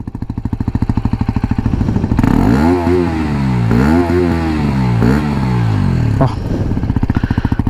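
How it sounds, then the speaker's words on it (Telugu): A Hero Xpulse 210 motorcycle engine idles with a steady low exhaust throb, briefly revving up and down in the middle before settling back to idle. "సో ఎగ్జాస్ట్ నోట్ అయితే వినిపిస్తుంది చూడండి. ఇది ఐడిలో ఉన్నప్పుడు అయితే ఇట్లా ఉంటుంది."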